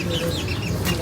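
A rooster clucks and calls in a seaside Zambales setting, short fowl vocalizations heard close, while people talk and background noise continues.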